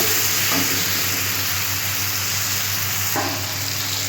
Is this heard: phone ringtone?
no